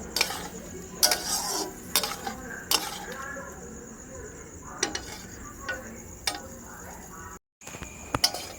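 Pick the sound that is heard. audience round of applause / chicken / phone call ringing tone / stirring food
stirring food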